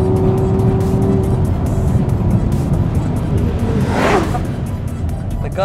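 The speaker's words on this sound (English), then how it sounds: "The car sounds better." An Audi R8 LMX engine roars loudly and continuously at speed from inside the cabin, with a rising whine near the end and no talking.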